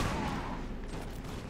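Gunfire in Mount & Blade Warband with the L'aigle mod, a dense, muffled crackle of musket volleys rolling continuously through a short stretch.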